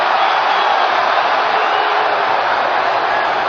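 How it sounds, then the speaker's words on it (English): Baseball crowd at a 1979 World Series game, Pirates at Orioles, in Baltimore, yelling in a steady, dense roar that fills the whole stretch without a break. "Crowd yelling balk, which it was not."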